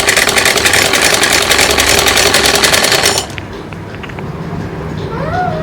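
A sewing machine stitches the hem of a child's night suit, running in a steady, fast mechanical whir for about three seconds before stopping abruptly, leaving faint room tone.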